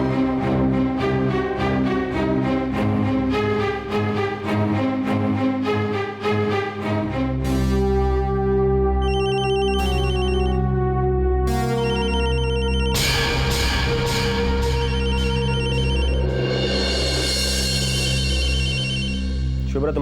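A phone rings repeatedly over steady background music in a Hindi TV drama scene, the electronic ring tone cutting in clearly several times.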